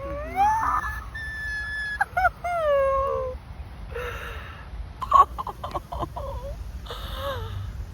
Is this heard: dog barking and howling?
yes